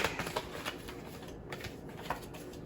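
Tarot cards being shuffled by hand, a soft rapid riffling and flicking with small bursts, close and fairly quiet.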